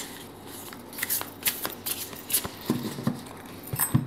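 Oracle cards being shuffled for a ten-card reading, producing soft riffling and flicking with a few sharper taps, close and fairly quiet and steady.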